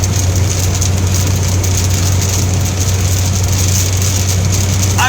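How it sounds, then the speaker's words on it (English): Rain falling on a car during a storm, heard from inside as the car drives, a steady hiss over a low engine hum and road rumble, with no talking. "as I go east, the rain gets worse"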